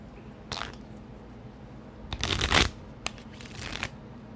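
A deck of tarot cards is shuffled in a few quick, close riffles and flutters, with a louder burst in the middle and faint pauses between.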